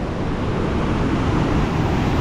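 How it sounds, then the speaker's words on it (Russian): Stormy winter sea surf on the Turkish coast, a steady loud roar of crashing waves with wind rumble, continuous and close throughout. "Опять волны."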